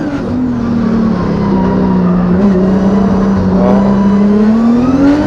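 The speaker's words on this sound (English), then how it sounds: "See how he's just like half throttle the whole time and then everything's slipping and sliding." A Formula Drift car holds half throttle in second gear with the tires slipping, giving a steady, loud engine drone that wavers slightly in pitch, with tire noise running underneath throughout.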